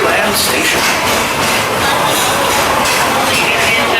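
Walt Disney World Railroad steam train at Magic Kingdom rolling toward Frontierland Station, a steady loud rumble of wheels and carriages throughout, with an announcer's voice over the top.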